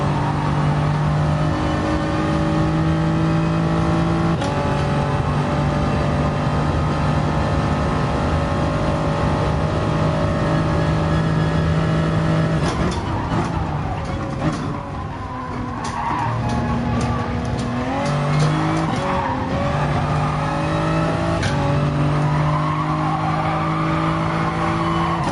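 Toyota Supra race car in Gran Turismo Sport, engine droning and revving loudly with pitch rising and dropping through gear shifts and some tire squeal, continuous and close throughout.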